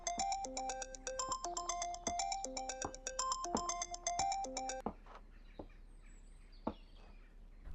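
A melodic phone ringtone plays a repeating chirpy tune of bright tones for about five seconds, then stops, leaving a quiet room with a few faint clicks and rustles.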